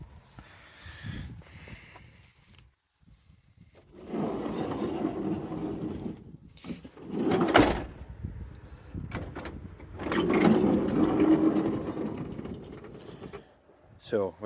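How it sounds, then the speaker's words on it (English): Side sliding door of a Renault Master mk2 van, with replaced rollers and a repaired guide rail, rolling open and shut twice, each pass a rumbling roll of a few seconds that ends in a clunk. "the door now rolls freely backwards and forwards"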